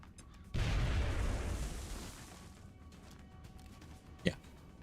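A grenade detonates in the turn-based strategy game XCOM: Enemy Within, a sudden loud boom whose rumbling blast fades over a couple of seconds, followed by a short sharp knock.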